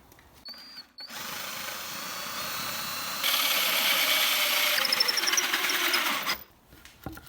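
A power drill drives a hole saw through the wood floor of a Sprinter campervan conversion, whining steadily and loudly for several seconds before the cut finishes and the motor winds down.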